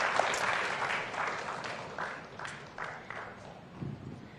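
Audience applause at an evening gathering, a moderate, fairly distant clapping that swells and fades in uneven bursts before thinning out.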